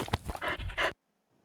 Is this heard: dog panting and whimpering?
yes